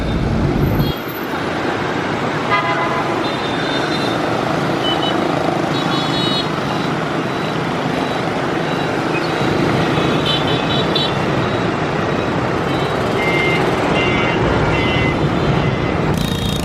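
Dense street traffic in Hanoi's Old Quarter, Vietnam: a constant close wash of engines and road rumble, with scattered horn beeps cutting through and faint voices in the mix.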